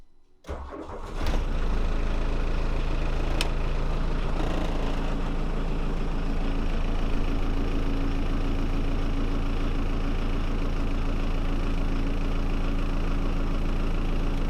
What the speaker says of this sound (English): if we go ahead and start her, see what happens.